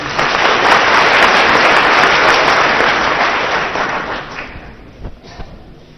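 An audience at a ceremony breaks into loud, dense clapping that holds steady, then thins out and fades to a few scattered claps.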